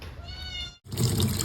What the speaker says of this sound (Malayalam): നല്ലൊരു നാടൻ പൂച്ച.